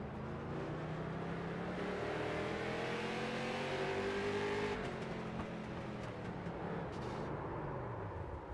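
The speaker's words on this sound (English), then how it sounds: "when he came off the gas, you could hear a little bit of wheel hop" A race car engine roars close by, recorded onboard at Charlotte, pitch rising under acceleration, then drops off sharply off the throttle and stutters briefly with wheel hop before settling into lower rumble.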